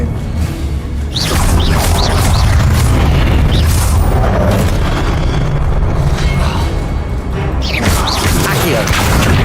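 Confringo blasting spells booming during a Hogwarts Legacy boss fight, with dense, continuous loud explosive rumble and crackle throughout and swooshing spell effects layered on top.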